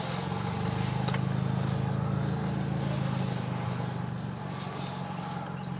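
A 2017 Toyota Corolla SE with an aftermarket exhaust system driving, a steady low exhaust drone with a smooth, moderately loud hum, heard from inside the car.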